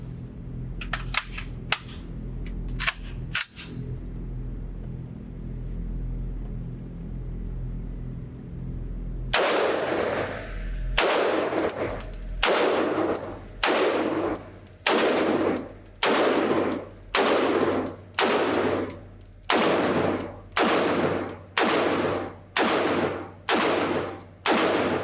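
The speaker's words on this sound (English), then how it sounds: "let's get to my first shots with this new rifle." A North Star Arms NS-15 rifle fires on a range: a few sharp shots come first, then after a pause a steady run of about fourteen loud, close, evenly spaced reports with no talking.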